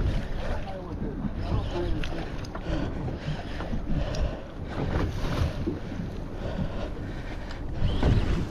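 A fishing boat motors straight toward a hooked fish on open water, its engine drone steady and close beneath wind buffeting the microphone, with people talking over it.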